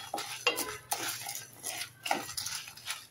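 Urad dal, asafoetida and dried chilies dry roasting in a pan, with repeated close metallic scraping and clinking of a spoon stirring against the pan in irregular bursts; no talking.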